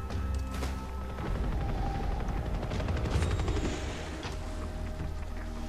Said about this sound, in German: Der Helikopter, da haben sie sicher die anderen Krieger hingebracht.